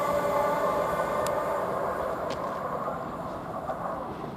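A train pulls out of Didcot Parkway station with a steady rumble and rolling rail noise, heard from the platform. Faint clicks come over it, and the sound slowly fades as the train moves away.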